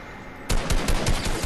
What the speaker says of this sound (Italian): Ah, mi sparano, non ho laserato.